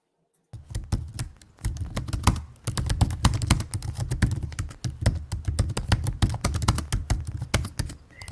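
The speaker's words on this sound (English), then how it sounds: "the typing will go away after about the first 30 seconds." Steady, brisk typing on a computer keyboard during a live writing sprint, close and continuous with dense irregular key clicks, no voices.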